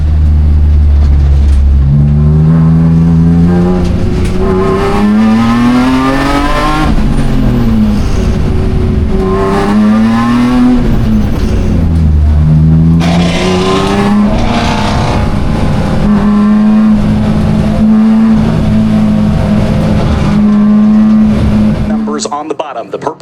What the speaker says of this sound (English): Chris DeLucia is going to lead the grid to green for the racing action here